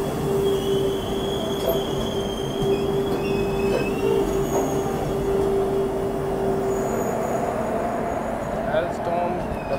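A freight train hauled by a WAG-12 electric locomotive rolls past near the Wardha river in India, a loud continuous rumble of wagons with a sustained high wheel squeal running through most of the pass.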